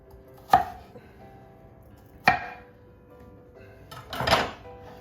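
A knife chops through very fresh, hard onions on a cutting board for a Peruvian fermented salsa: two separate sharp thunks, then a heavier cluster of cuts, heard close in a quiet kitchen.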